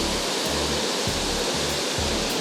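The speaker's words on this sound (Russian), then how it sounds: "Такие, знаете, искусственные водопады." Artificial waterfalls at the Fort Worth Water Gardens roar in a steady, dense rush of falling water, loud and continuous, with a faint low pulsing beneath and no voices.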